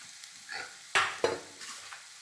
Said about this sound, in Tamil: வேக வச்ச சோயா, நல்லா அந்த எண்ணெயிலும் அதை வதக்கணும்.